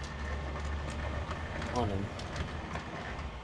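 Miniature model train running slowly on a freshly cleaned layout, a steady low rumble with faint rail clicks heard beneath continuous close talking.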